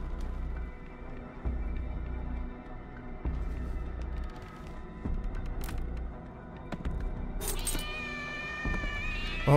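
A cat in Layers of Fear (2023) on PS5 lets out drawn-out, wailing meows over low throbbing spooky background music, followed by a brighter, sharper yowl near the end.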